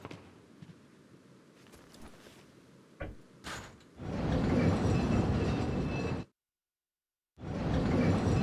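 Train in the video game Resident Evil 4 from 2005: a few soft clanks and knocks, then a loud steady rumbling roar of the moving train that cuts out abruptly and resumes after a short gap.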